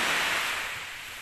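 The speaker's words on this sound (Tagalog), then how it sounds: "Sarap kasi pagmasdan yung alon tapos yung ingay niya." Ocean surf washes onto Bacon Beach in Sorsogon City as a broad, steady roar of rushing water that fades slightly over a brief moment, with no voices present.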